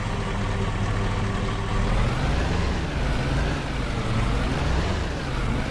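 A tractor with a water tanker attached rumbles in Farming Simulator 22, its engine a steady, loud, low drone that holds without pause for several seconds.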